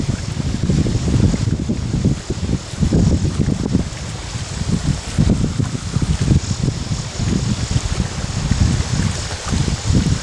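Wind at roughly 15 to 20 miles an hour buffets the microphone outdoors, a loud, continuous rushing roar with uneven gusty surges and a faint watery wash beneath.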